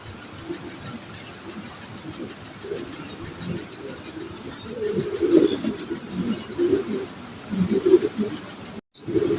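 Pigeons cooing at a busy pigeon market, a steady low warble of many birds layered over constant background bustle, growing louder toward the end.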